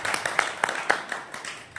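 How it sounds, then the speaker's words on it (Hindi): Audience applause at an evening devotional gathering, a burst of scattered hand claps with sharp, irregular peaks, at moderate level for under two seconds. "तालियां"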